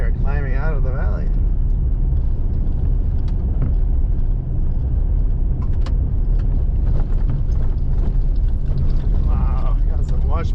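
A four-wheel drive vehicle rattles and rumbles steadily over a washboard gravel road while climbing out of a valley near Brown Creek Campground in Olympic National Forest, with a loud continuous roar and a voice heard briefly.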